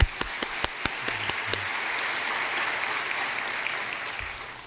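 Church congregation applause during a Pentecost sermon, opening with a few sharp individual claps that quickly merge into sustained, even clapping from a large room, heard alone at moderate level.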